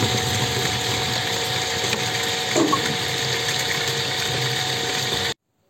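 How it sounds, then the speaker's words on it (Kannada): Filtered drinking water pours steadily from a coin-operated dispenser into a can, with a pump humming under the flow, a brief knock midway, then it stops abruptly near the end. "ಕಾಯಿನ್ ಹಾಕಿದ ತಕ್ಷಣ ನೀರು ಬರಕ್ಕೆ ಶುರುವಾದವು"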